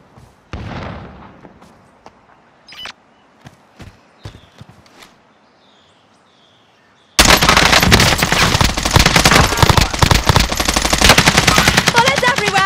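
Heavy automatic gunfire erupts in the battle royale shooter Warzone, loud and continuous for the last several seconds, after a quieter stretch of scattered footsteps, thumps and distant shots.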